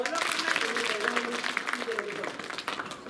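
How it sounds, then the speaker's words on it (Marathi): Applause from a crowd at a village protest meeting in Mangalvedha taluka over water and the irrigation scheme, a dense steady clatter of many hands lasting the whole moment, with voices talking and calling out over it. "टाळ्या वाजवा"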